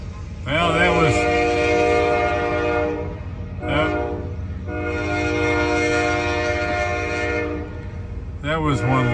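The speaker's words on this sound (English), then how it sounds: "that was one long train now, wasn't it?" A long train passes close by with its horn blaring in loud, sustained blasts, one long and a few shorter, over a steady rolling rumble of rail cars.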